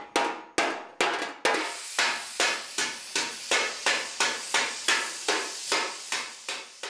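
Copper sheet being hammered by hand into a heron sculpture in a metal sculptor's workshop: a close, loud series of about fifteen sharp metallic strikes in a steady, even rhythm, with no talking.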